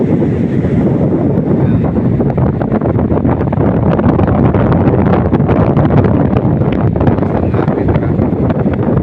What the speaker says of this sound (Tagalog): lakas ng hangin na yun lakas yan